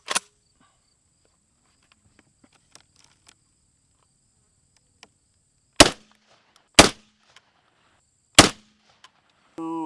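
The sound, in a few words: Hatsan BTS 12 shotgun firing buckshot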